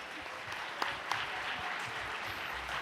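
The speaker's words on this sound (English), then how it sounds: "Let us all send the Hyojong Heart Chorale again another warm round of applause." Warm, sustained applause from a church congregation for the Hyojong Heart Chorale choir, a dense even wash of clapping throughout with a couple of sharper claps standing out.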